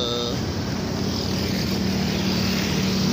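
A motorcycle rides slowly at night through a market area, its engine a steady loud drone under constant wind and road rush throughout.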